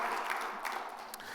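Applause from a church congregation, a short steady stretch of clapping from many hands filling the room at moderate volume.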